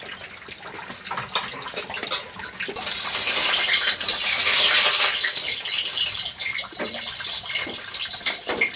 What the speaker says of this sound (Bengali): ঠান্ডা জল দিয়ে ধুয়ে নেবো